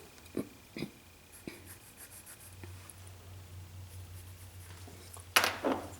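A pencil or pen scratches lines across paper in quiet, close strokes, a few short ticks and scrapes followed by a brief louder rub near the end over a low steady hum.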